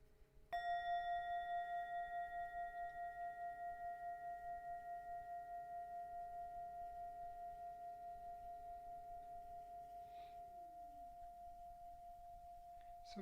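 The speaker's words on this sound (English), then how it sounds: "I'm going to ring the bell" A single bell is struck once, ringing with a clear, pure tone that slowly fades over many seconds in a quiet room.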